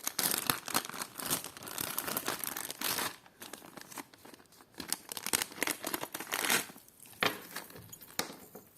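Close, continuous crinkling and rustling of a plastic packet of vintage jewelry being handled and opened, with crackly bursts throughout and no talking.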